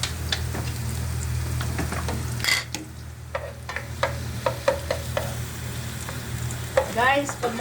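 Garlic frying in oil in a pan, a continuous crackling sizzle with scattered pops and stirring scrapes, close and alone.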